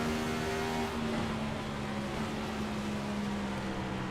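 Simulated race car engine held at full throttle on track at Nashville in iRacing, a steady loud drone with a sustained tonal whine, continuous and alone for about four seconds.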